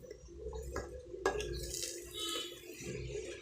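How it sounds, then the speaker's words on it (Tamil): Mixer-jar rinse water is poured into a pan of sautéed masala, a soft close splash and trickle with a light clink of the jar against the pan, quiet overall. "நான் இந்த மிக்ஸி கழுவின தண்ணி இதில் ஊற்றிடுறேன்"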